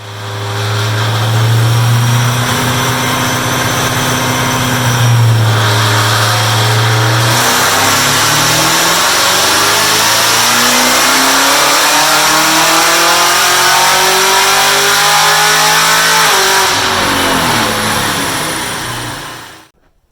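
A Texas Speed stroker engine on a dyno idles with a low, steady drone, then winds up in one long, loud rising pull to high revs before cutting off abruptly.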